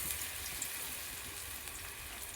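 Gram flour (besan) fritters flavored with green chili, onion and ginger-garlic paste fry in hot oil, giving a steady, close, even sizzle with no voices.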